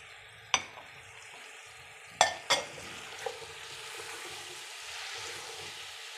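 Chopped carrots, potatoes and tomatoes fry in a pan, with a few sharp clatters of stirring followed by a soft, steady sizzle that stays quiet and close.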